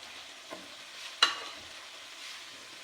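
Okra being stirred into spice masala in a hot pan, a soft steady sizzle with a couple of sharp scraping clicks from the spoon, close and alone without speech.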